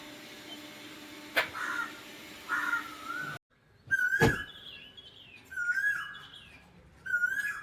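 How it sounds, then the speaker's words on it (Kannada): A koel calling outdoors near a house, its clear rising whistled notes repeating several times at moderate distance, with crow-like calls and light ambient noise between them. "ಕೋಗಿಲೆ ಒಂದು ಕೂಗು ಅಂತ ಕೂಗಾಡ್ತಿದೆ."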